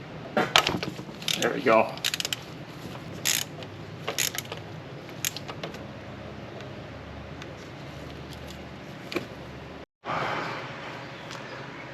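A ratchet wrench clicks in quick bursts while loosening a nut on a Toyota Tacoma's thermostat housing, working through an extension near the oil filter; metallic ratcheting and tool clatter come close up, with a brief spoken remark.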